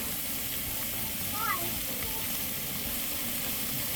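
Food browning in a pan over high heat for a homemade vegetable soup makes a steady, fairly quiet sizzle that runs the whole time, with a brief clink near the middle.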